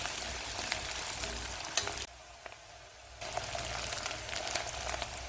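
Small shallots frying in hot oil with fennel seeds and two dried red chillies for a Karaikudi-style dish, a continuous close sizzle with a brief quieter dip midway, no talking.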